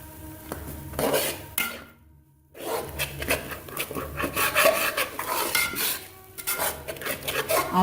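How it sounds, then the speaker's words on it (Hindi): Fenugreek leaves for a mixed vegetable dish are stirred and fried in a pan with turmeric, coriander, salt and red chili, making continuous rough scraping and rasping of a spoon against metal, with one brief pause. "अब मैं पहले मेथी को अच्छी तरह भूनूंगी।"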